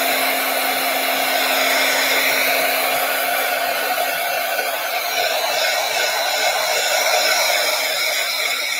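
A hair dryer blows in a steady, close, continuous whoosh with a faint motor whine underneath, holding constant with no voices.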